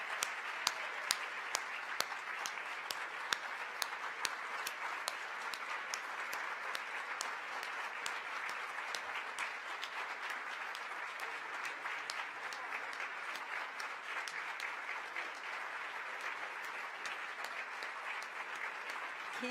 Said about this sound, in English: So let's clap them in.